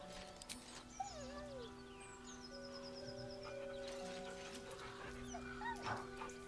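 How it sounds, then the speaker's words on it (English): A dog in Baldur's Gate 3 whines beside a corpse, giving soft, rising and falling whimpers over steady game ambience and background music tones, with a few brighter high calls mixed in. "With a deep, heartbroken whine,"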